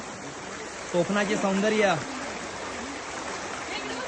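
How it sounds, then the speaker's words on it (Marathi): A flowing stream beside Devli Waghavane village in Konkan makes a steady, soft rushing wash throughout, while a voice speaks briefly over it. "हे आमचं देवली वाघवणे गाव आणि आमचा वाहता व्हाळ"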